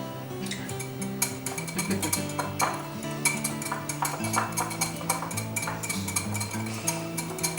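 A spoon scrapes and clinks steadily in a bowl as a rib seasoning mixture is mixed, quiet repeated stirring strokes with light metallic taps over faint background tones, no voices.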